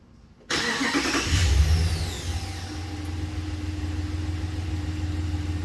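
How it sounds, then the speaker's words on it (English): A Ram 1500 pickup with the 5.7 HEMI V8 cranks briefly and catches, flaring loudly up close before settling into a steady, rumbling idle. "Go ahead and start the car."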